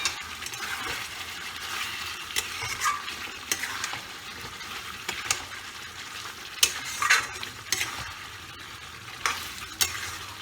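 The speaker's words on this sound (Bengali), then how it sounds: "এটা শুধু কষা, আর কিচ্ছু করার দরকার নেই, শুধু কষতে হবে।" Chicken biryani masala being stirred and fried in a pan, a steady soft sizzle with frequent scraping clicks of a spoon against metal, close and fairly quiet with no talk.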